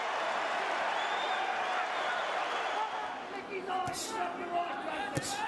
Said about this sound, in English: the crowd is delighted. Listen to them.